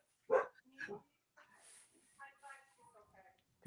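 Several dogs bark and yip in short bursts at a home during a conversation, close and fairly loud, with a whimpering note and people talking around them.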